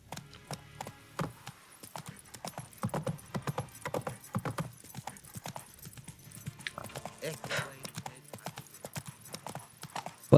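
Horse hooves clip-clop steadily as a horse is ridden in The Witcher 3: Wild Hunt, a continuous rhythmic trot of hoofbeats in the foreground, with someone talking over it.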